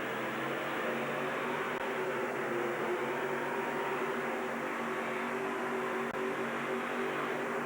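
A modified pulling tractor at an indoor stadium runs at full throttle, a dense, roaring wall of engine noise that holds steady and loud throughout.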